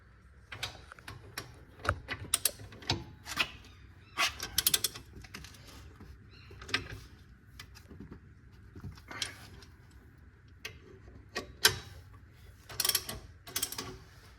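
Bolts being tightened by hand while slotted brake rotors are fitted to a Ford Focus XR5/ST225, giving sharp intermittent ratchet clicks and metallic creaks in short bursts, close and moderately loud, with no talking.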